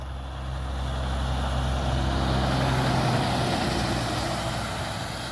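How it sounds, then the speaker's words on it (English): A logging truck drives past at Clam Lake Junction on a Wisconsin trail in winter: a broad, rumbling roar that swells to a peak midway, then eases off as it passes, with no voices. "This is like the fourth logging truck I've seen drive by here at this stop"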